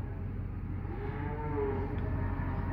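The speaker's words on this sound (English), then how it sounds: "these other trailers ahead of us have full grown cows they were hauling off and selling" Full-grown cattle low and moo from livestock trailers being hauled to sale, a long drawn-out bellow over steady road and engine rumble.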